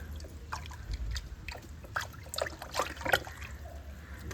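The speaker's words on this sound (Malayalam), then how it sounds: "ഈ ഒരു കഞ്ഞിവെള്ളം ഞാനത് അങ്ങനെ ഇളക്കിയതിന് ശേഷം നന്നായിട്ട് ഇളക്കി കൊടുക്കുക" Rice water (kanji) liquid fertilizer being stirred in a container, giving soft irregular sloshing and trickling splashes close by.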